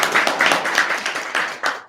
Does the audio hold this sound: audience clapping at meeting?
yes